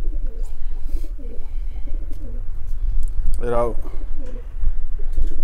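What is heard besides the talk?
pigeons cooing while bathing in water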